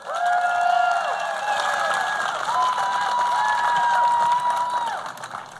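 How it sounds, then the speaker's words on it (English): Steady applause from a crowd at a political rally, loud and continuous, with tonal sounds running through it, fading slightly toward the end. "Give him a round of applause"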